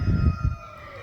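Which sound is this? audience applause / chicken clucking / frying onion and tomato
chicken clucking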